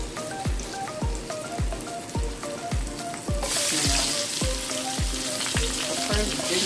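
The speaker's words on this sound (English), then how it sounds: "frying on my vegetables now." Carrot and other vegetables frying in a hot pan give a steady sizzle with regular rhythmic clacks of stirring, the sizzle growing louder and fuller partway through as more vegetables go in.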